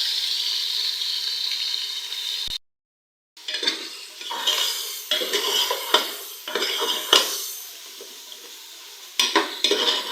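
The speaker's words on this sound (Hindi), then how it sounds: "बीफ को हम लोग प्याज के साथ उस वक्त तक फ्राई करेंगे जब तक कि इसका कलर चेंज नहीं हो जाता।" Beef chunks frying with onions in a pan, with a loud spoon stirring and scraping against the metal in uneven strokes over a steady sizzle after a brief silent gap.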